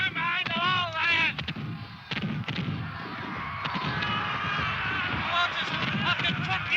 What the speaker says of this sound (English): After 28 minutes of cannon fire